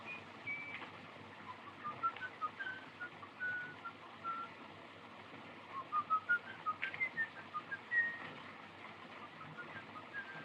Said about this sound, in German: da pfeift doch einer